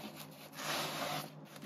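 A Sun-X SAE angle head wrench set, part number 9914A, gives a brief, fairly quiet rubbing and sliding scrape as it is pulled partway out, with a slightly louder swell in the middle; no one speaks.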